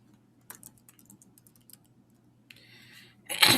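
A short run of soft key taps on a computer keyboard while typing in Google Docs, sparse and quiet, then a brief louder rustle at the end.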